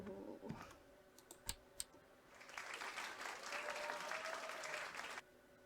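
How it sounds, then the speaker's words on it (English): Applause from a theater audience at a performance, a few sharp clicks first, then a soft, fairly distant burst of clapping lasting about three seconds before stopping abruptly. "The applause makes me feel better, though."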